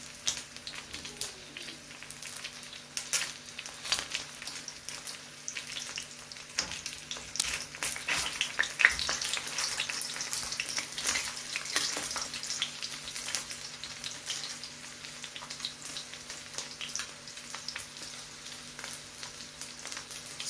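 Sausages frying in a pan over low-medium heat give a steady, soft crackling sizzle that continues evenly throughout, close but fairly quiet.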